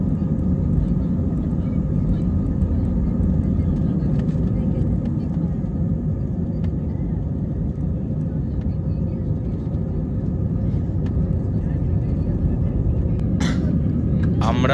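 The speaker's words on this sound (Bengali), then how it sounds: "আমরা এখন রাতের কলকাতার আকাশের উপর দিয়ে যাচ্ছি।" A steady, loud engine drone fills a passenger airplane cabin in flight over Kolkata at night, with a deep, even rumble and no break from start to finish.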